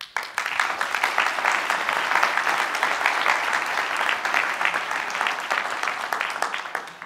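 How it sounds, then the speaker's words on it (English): A conference audience at Scala.io 2019 breaks into steady, dense applause that holds for several seconds, many hands clapping at once close by with no voices over it. "give a round of applause for the conference and Daniela"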